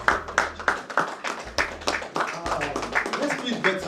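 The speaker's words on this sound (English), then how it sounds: "Daniel deserves a very powerful applause." Clapping rings out at an induction ceremony, a series of sharp, evenly spaced claps over roughly four seconds, mixed with talking in the room.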